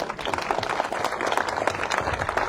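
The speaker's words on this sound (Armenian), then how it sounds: "մենք կարող ենք ծափահարել" A crowd at a speech in Shatin, Armenia breaks into sustained applause, a thick, even wash of many hands clapping throughout.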